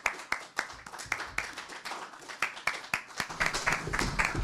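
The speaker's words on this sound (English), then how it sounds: "just give him a round of applause" An audience claps for the panelists at a book discussion event, a small group of hands clapping in a fairly steady, moderately close patter that builds slightly denser toward the end.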